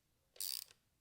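Short burst of quick ratchet clicks from a wrench running in bolts on a Porsche 911, close and crisp, lasting about a third of a second in an otherwise quiet space.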